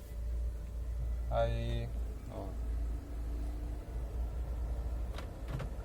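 An Opel Meriva with Easytronic automated gearbox, its clutch just replaced, idles with a steady low engine hum throughout, while someone speaks briefly nearby.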